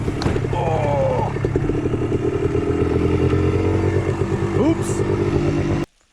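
Two-stroke Yamaha Blaster ATV fitted with ITP Sand Star paddle tires, running in snow, its engine droning loudly and steadily close by with rising whine shifts, before cutting off abruptly near the end.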